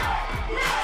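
A live independent wrestling crowd cheers and yells loudly for a woman wrestler, a dense, excited roar of voices with whoops rising through the brief moment.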